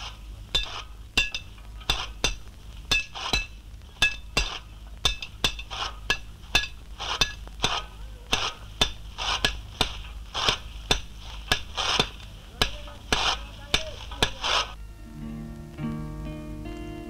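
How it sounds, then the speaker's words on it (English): Children striking heavy iron with hammers in a blacksmith's shop, sharp metallic blows landing in a steady, repeated rhythm for about fifteen seconds before giving way to a sustained musical tone. "Children hammering heavy iron in a blacksmith's shop"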